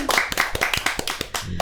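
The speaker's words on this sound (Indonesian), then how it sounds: "Tepuk tangan dong semuanya" Audience clapping at a lively Jakarta community event as a picture-guessing game is announced: a short burst of sharp, irregular hand claps from a small crowd, fairly close, with a voice entering near the end.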